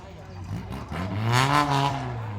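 A 4x4 off-road vehicle revs its engine at the start line of a charity off-road competition, a rising, growling roar close by that swells toward the middle and holds, with crowd voices underneath.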